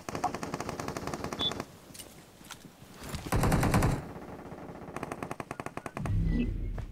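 Automatic weapons fire in PUBG Mobile, heard as loud, rapid bursts of machine-gun shots up close. Dense rattling runs alternate with short pauses, and a heavier blast comes near the end.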